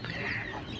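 Pigeons at a busy Saudi bird market give a short, close burst of throaty calls over faint background murmur.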